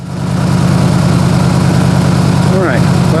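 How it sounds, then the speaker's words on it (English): A V8 engine, newly fitted with fresh valve cover gaskets and running on all eight cylinders while rolling smoke, idles with a loud, steady low throb close by. A brief high squeak rises over it near the end. "it is idling now on 8 cylinders"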